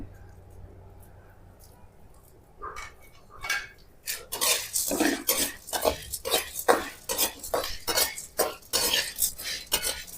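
Spices are stirred and dry-roasted over a low flame in a pan for Maharashtrian kala masala, a steady run of close, clattering scrapes and taps from a utensil against the metal, building after a quieter start while someone talks over it.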